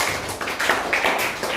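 A few quick hand claps sound close by in a quiet room, soft and uneven, with a short gap between them.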